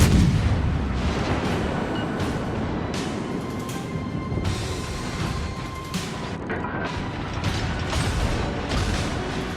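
Naval gunfire in World of Warships pounds a ship, a dense, continuous barrage of booms, rumbles and metallic mechanical clatter filling the whole stretch at steady loudness, with no talk.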